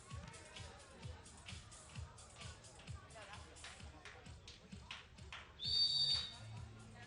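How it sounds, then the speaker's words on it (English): American supporters whoop from the stands at a beach volleyball bronze medal match in Antalya, a sharp whistle-like cheer rising over a murmuring crowd, with a commentator talking throughout. "There's whoops in the crowd from the Americans."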